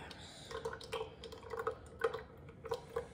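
Eggnog dripping through a strainer, a quiet irregular series of small liquid drips and plops, close and faint, with no talking.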